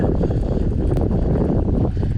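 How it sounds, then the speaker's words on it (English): Heavy, continuous wind roars and buffets the microphone at Pawtuckaway Lake during a fishing event, a dense low rumble with no other clear sounds. "it's just way too windy right now"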